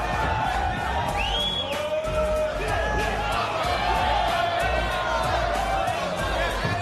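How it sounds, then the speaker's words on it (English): Spectators at a boxing match keep up continuous loud cheering and whistling, with a few sharp whoops rising above the noisy crowd throughout. "Crowd really loving this performance so far"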